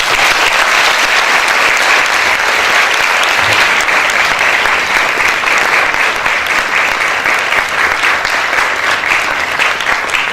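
An audience at an academic exposition applauds a level 3 author, Mr. Bilal Hassan, with sustained, loud, even clapping that holds steady for about ten seconds without a break.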